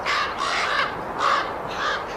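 Young ravens in a Yellowstone nest give a series of harsh, raspy caws, about four calls in a loose rhythm, close and fairly loud, with no talking.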